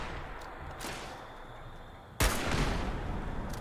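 Gunfire at a van in Fallout 76, a few faint sharp shots early on, then a loud sudden blast followed by sustained noisy rumble and crackle, with no voices.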